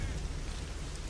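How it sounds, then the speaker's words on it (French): Rain begins falling in The Witcher 2, a brief, quiet, even patter of drops with a soft low rumble underneath. "Oh, il se met à pleuvoir."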